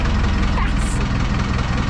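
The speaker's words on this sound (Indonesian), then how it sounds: "Mesinnya pakai mesin truk guys" A fishing boat on the East Java coast powered by a truck engine, running as a loud, steady low diesel rumble close by, with a voice talking over it.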